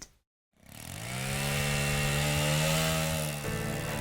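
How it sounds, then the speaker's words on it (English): Power saw running at a home renovation work site, starting after a brief silence and then droning steadily and loudly with a strong harmonic whine that shifts pitch slightly near the end. "Blowers and edgers, drills and saws sound from sunup to sundown."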